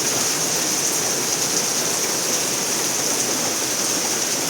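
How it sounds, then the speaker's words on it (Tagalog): Steady light rain falls outdoors as a dense, even hiss that holds constant throughout, with no voices over it. "Pero hindi naman siguro babaha at mahina naman yung ulan."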